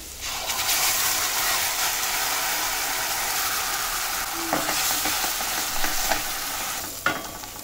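Kitchen king masala being stirred in a frying pan for paneer badami, a loud continuous sizzle with scraping strokes and a few clinks of the spoon against the pan near the end, and no speech.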